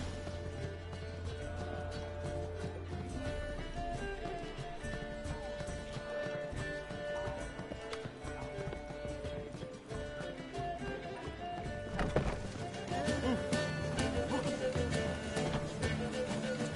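Horse galloping in the video game Witcher 3, a steady rhythmic hoof clatter under game ambience, with a thud and heavier pounding near the end.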